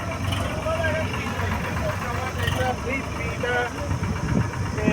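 A new tractor's engine idles at a tractor market with a steady low rumble and knock while people talk loudly over it.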